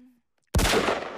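A single loud gunshot rings out at Ford's Theater as the president is shot, a sharp crack after near silence with a brief fading tail, in a cartoon scene.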